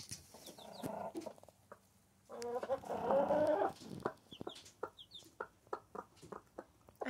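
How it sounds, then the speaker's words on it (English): Hens cluck softly and low, close by, in irregular bursts, with a few thin high peeps scattered among them. "I just thought you'd want to hear the mummy sounds."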